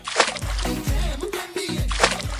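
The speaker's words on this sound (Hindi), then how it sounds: "एक कप पानी यहाँ भी डाल दिया" A cup of water splashed onto a muddy car bonnet while cleaning the car, giving several loud, close sloshing splashes in quick succession.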